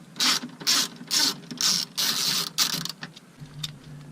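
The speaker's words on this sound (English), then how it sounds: "I'm going to remove these 4 screws" A cheap Stanley 6mm socket on a ratchet backs out the screws of a 2012-or-later Ford Focus front window motor: several quick, loud clicking bursts up close, then quieter lone ticks.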